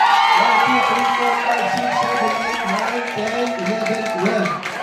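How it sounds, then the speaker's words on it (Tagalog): Wedding reception crowd in Indang, Cavite cheering and shouting loudly during an applause vote, with children's voices and whoops forming a dense, sustained roar throughout; individual claps are not clearly separable. "Palakasan na ito na palakpak."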